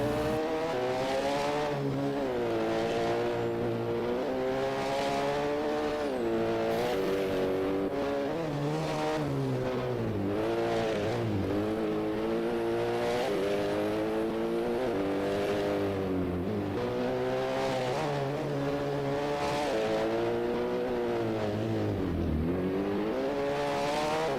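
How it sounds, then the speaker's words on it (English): An E1 Plus 2000 class race car such as a Mitsubishi Evo finishes a hill climb run at the European Hill Climb Championship, its loud, close engine revving hard and rising and falling through repeated gear changes without pause. "That's the finish for another one of our E1 Plus 2000 cars. There's a lot of them today. A lot of these Mitsubishi Evos and so on."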